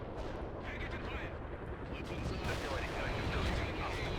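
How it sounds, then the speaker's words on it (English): Heavy artillery pounds the field in World in Conflict. A dense, continuous rumble of booming impacts and crackling blasts builds slightly louder toward the end, with a voice faintly mixed beneath it. "Oh, that's going to be a good artillery hit right there."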